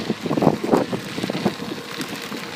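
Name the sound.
wind blowing while cycling downhill on a trail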